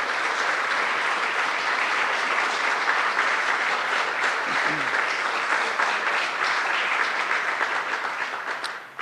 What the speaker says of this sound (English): I want to give Senator Kemp Hannon and Assemblyman Michael Fitzpatrick a round of applause